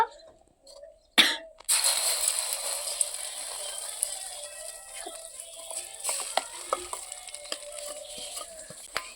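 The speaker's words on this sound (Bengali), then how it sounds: "এবার আমি ডিমের সাথে মিশানো মসুর ডালটাকে দিয়ে দিব" Red lentil and egg batter hitting hot oil in a kadai, a sharp splash followed by a steady close sizzle and crackle with scattered pops.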